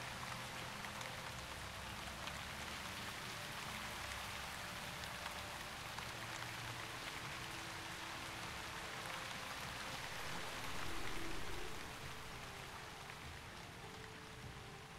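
Steady rain falls in the online role-playing game Shroud of the Avatar, a continuous soft hiss of raindrops at low level that keeps up evenly throughout with a brief swell near the end and no talk.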